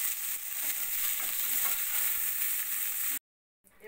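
Cauliflower and potato pieces fry in hot oil, giving a steady, close sizzle with faint stirring scrapes for about three seconds before it cuts out abruptly.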